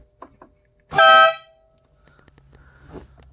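A pedal-powered air horn on a 2008 Smart Fortwo Passion Cabriolet, heard from outside the car, gives a single loud, brassy blast lasting about half a second between faint clicks and quiet outdoor background noise.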